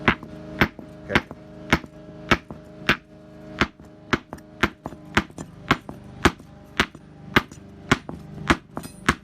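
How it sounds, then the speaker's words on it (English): Hard, sharp stone-hammer blows strike a granite block in a steady rhythm, about two per second, close and loud with ringing impacts. "But let's use a stone hammer, same sort of block."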